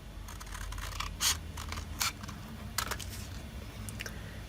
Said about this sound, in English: And now we will come in with our scissors.